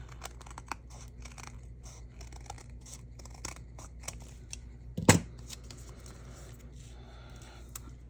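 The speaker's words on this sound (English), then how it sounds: "Grab some bigger scissors. We will trim that bit off and that bit up at the top." Large scissors trim the edges of a handmade Christmas card, with quiet scattered snips and rustling paper and one sharp, louder cut about two-thirds through. No one speaks.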